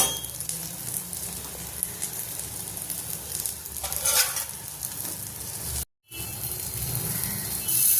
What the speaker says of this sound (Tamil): டீப் ஃப்ரை பண்ண வேண்டாம், இந்த மாதிரி சாலோ ஃப்ரை வந்து பண்ணிக்கலாம்